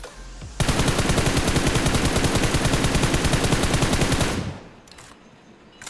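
Rapid, loud automatic gunfire in a battle royale video game: a sustained burst of closely spaced shots lasting about four seconds, then a couple of faint distant shots, with no talking.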